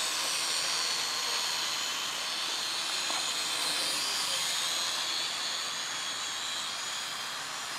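A Syma X5SW toy drone flies outdoors with a continuous high-pitched whine from its small propellers that stays steady and fairly loud.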